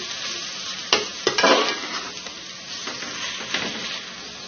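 Fried rice being stirred in a pan as turmeric and chili powder are mixed in, with a steady sizzle under a few sharp scrapes and clinks of the spoon, close and alone.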